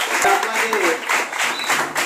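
Audience clapping loudly in a coaching-centre gathering about polytechnic exams, a dense steady wash of applause with talk mixed in throughout.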